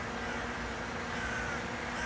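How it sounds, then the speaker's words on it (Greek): Crows caw near a hovering DJI Mini 5 Pro drone, with faint calls sitting under the drone's loud, constant buzzing whine. "Μαζευτήκανε και τα κοράκια."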